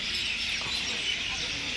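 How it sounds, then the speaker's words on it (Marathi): A dense chorus of birds chirps and twitters continuously at dusk just after sunset, a steady high-pitched wash of calls with no talking. "पक्ष्यांचा किळवेळाचा आवाज बघा किती इथे येतो आहे."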